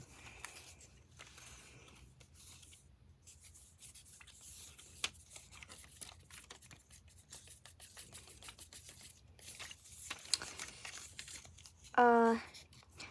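Paper strips being cut with scissors for a homemade paper wand, a string of quiet snips and rustles close by, with a brief louder crinkle near the end.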